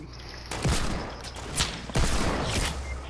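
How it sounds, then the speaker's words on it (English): Loud bursts of rapid gunfire in an online shooter game, two volleys close together with echoing tails, dense and near, with no speech over them. "there's two people shooting at me at the same time"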